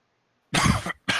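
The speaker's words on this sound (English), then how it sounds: "Do pardon my coughing" A person getting over a cold coughs close to the mic, one strong raspy burst followed by a shorter second cough after a brief gap.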